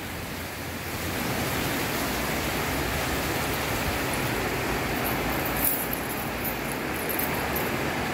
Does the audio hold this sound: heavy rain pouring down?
yes